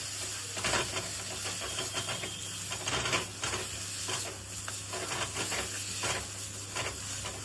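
Spice paste with ground coriander and salt sizzles and hisses steadily in a hot pan while being stirred, with intermittent scraping and clicking, heard close and fairly quiet. No one speaks.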